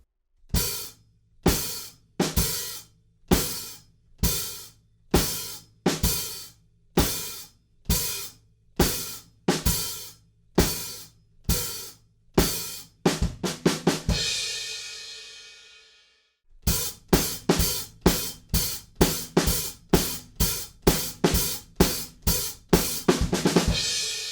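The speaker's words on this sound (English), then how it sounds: "we're just going to kind of sizzle every beat and then close it straight away on the hi-hats" A steady drum kit beat from a song with sharp, evenly spaced kick hits and hi-hat sizzles, pausing briefly for a washy open cymbal before the pattern resumes.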